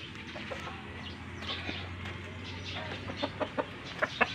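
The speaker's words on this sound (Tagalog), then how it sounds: "Dito yung mga manukan ng ng bayaw ko guys" Fighting-breed chickens in a brother-in-law's poultry pens in Mindanao cluck and squawk at close range over a low hum, with short calls growing more frequent toward the end.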